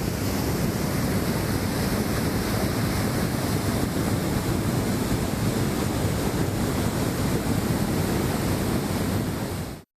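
Water from the Mullaperiyar dam's thirteen sluice gates pours out in a heavy release, a dense, unbroken roar of rushing water with wind buffeting, loud and steady throughout.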